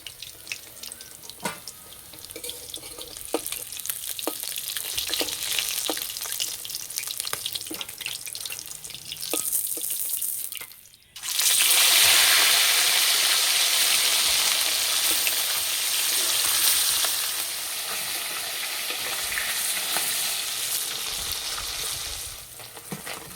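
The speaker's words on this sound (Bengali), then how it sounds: "মাছগুলো লাল লাল করে ভেজে নিয়েছি" Pieces of rohu fish fry in hot oil, a steady close sizzle with scattered pops that swells into a louder, dense hiss after a brief dip partway through.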